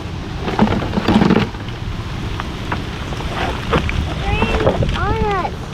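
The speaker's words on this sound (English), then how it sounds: "Oh, here comes the big rain." Heavy rain from a sudden thunderstorm over a Louisiana swamp during family jug fishing from a boat, a broad steady wash with wind buffeting the microphone, brief bursts of children's voices near the end.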